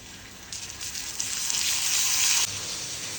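Marinated fish frying in oil on a dosa pan gives a steady, close sizzle with broadband hiss that swells and thickens midway, then eases slightly, with no talking.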